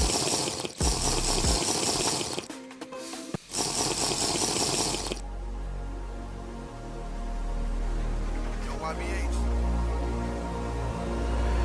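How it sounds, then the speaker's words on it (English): Houseplants in a bedroom are watered from a tap, with a loud rushing fill that runs in bursts and breaks, then gives way to a softer, steady trickle and pour. "just gotta water the plants real quick"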